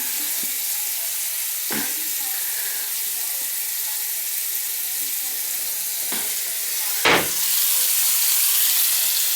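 Water runs steadily into a slow-draining bathroom sink and drains, a broad hissing rush with a few short knocks and clunks.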